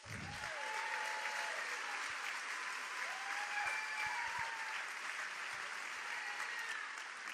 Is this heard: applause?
yes